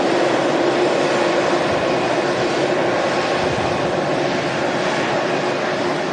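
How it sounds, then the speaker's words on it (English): A massive Airbus A380 at Manchester Airport produces a steady, loud, broad engine roar that stays constant throughout with no breaks. "Massive aircraft, the A380."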